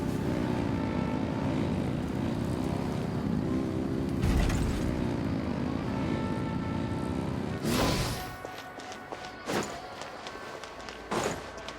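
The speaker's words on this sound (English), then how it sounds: "Rev the engines!" Engines revving in the video game Genshin Impact: a loud, steady droning roar holds for about eight seconds, then cuts out and gives way to a few sharp, scattered clattering thuds.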